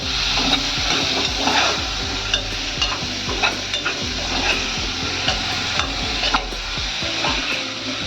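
Bottle gourd is stirred in a pan over low gas, a spoon scraping and knocking against the metal in irregular strokes above a steady soft sizzle, close and continuous with no talking.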